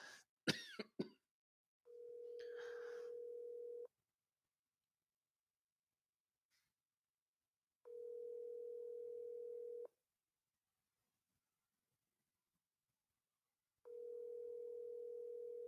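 A telephone call rings unanswered, with long, steady ringback tones at a regular pace and silences between them, preceded by a couple of coughs close to the microphone.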